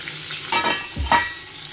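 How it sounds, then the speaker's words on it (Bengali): Eggplant slices frying in hot oil, a steady close sizzle with a couple of louder bursts as pieces are stirred or turned in the pan. "এইখানে হচ্ছে বেগুন ভাজা"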